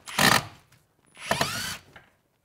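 A drill or driver backs wood screws out of carpet in a car interior, two short near bursts with a brief pause between them, with no talk.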